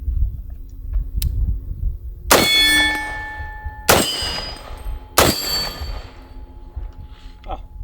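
An FN SCAR 17S semi-automatic rifle fired in suppressed mode: three sharp, loud reports spaced about a second and a half apart, each followed by a bright metallic ringing that fades, over a low background rumble.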